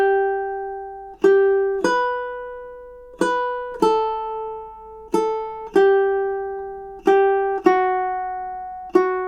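A ukulele plays the melody line of Fernando Sor's Study in B Minor alone, clear single plucked notes ringing out in a steady, unhurried triple-time rhythm, each note sustaining and fading before the next.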